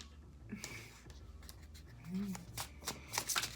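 A deck of tarot cards is shuffled in short papery bursts, faint and close, mixed with low background noise and a voice speaking.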